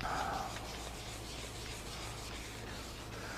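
Continuous scratchy rubbing of a sanding block flattening a wood finish, steady strokes close up with no talking.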